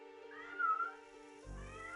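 A cat in the Tex Murphy: Overseer video game meows several times, quiet and drawn out, followed by a louder, lower yowl toward the end, heard over a faint musical background.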